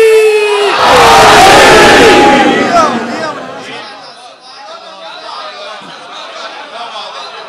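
A large religious gathering shouts Haidari slogans in unison, a loud, massed roar of voices that swells for a few seconds and then dies away into scattered crowd chatter.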